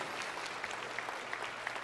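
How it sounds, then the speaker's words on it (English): A church congregation applauds a children's choir during a live worship service, a steady, moderately loud wash of many people clapping with individual claps popping out now and then. "would you give them a round of applause"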